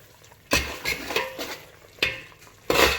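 Spices roasting in a pan while being stirred, with several sharp clatters of a utensil against the pan over a quiet sizzle, close and intermittent.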